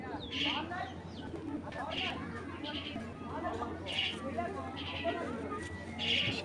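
Several Girbaz pigeons coo softly in a loft, low murmuring calls mixed with occasional sharp chirps, while someone talks continuously over them.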